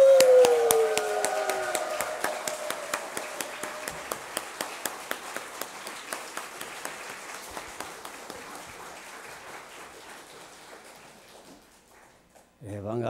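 Church congregation welcoming a pastor at a worship service, a brief whoop and shout at the start, then clapping that settles into slow rhythmic unison beats and fades, with a voice coming in at the very end.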